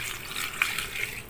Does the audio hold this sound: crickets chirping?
no